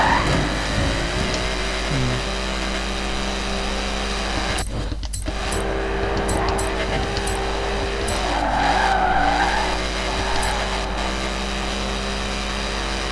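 A Ford Mustang in the racing video game Forza Horizon skids with a sustained tire squeal over a steady engine drone, with a few sharp clicks and a swelling slide partway through.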